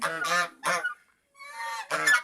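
A domestic goose honks loudly and close by, four harsh, nasal calls in quick succession with a short pause in the middle.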